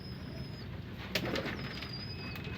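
Pigeons cooing faintly inside a loft, soft low calls over a steady background hum with a brief rustle midway and no talking.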